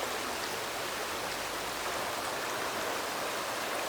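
A stream rushes over rocks at a river crossing on a hiking trail, a loud, steady broadband roar of flowing water close by, unbroken for the whole stretch with no talking.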